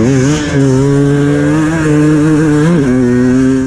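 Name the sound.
two-stroke motocross bike engine revving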